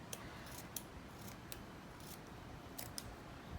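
Several sharp scissor snips cutting paper, irregularly spaced, close by over a soft hissy background with no voices.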